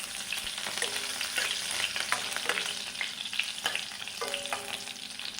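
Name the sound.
stirring mustard seeds, garlic and green chillies frying in pan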